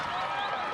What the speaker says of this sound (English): Fans coming to their feet, cheering on Ibarra